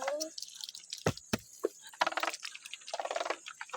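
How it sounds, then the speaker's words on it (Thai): Water poured during the making of Lao-style steamed cassava in a rural kitchen, heard as several short splashy drips and trickles, close by, in uneven bursts with some background noise. "อันนี้เขาก็ใส่น้ำนะ"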